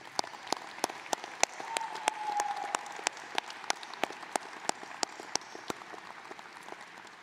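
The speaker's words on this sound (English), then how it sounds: "Let's give another round of applause to family and friends." A commencement audience at the 2023 University of Dayton School of Law ceremony claps in a steady burst of fairly sparse, distinct hand claps that carry on for several seconds in a large hall.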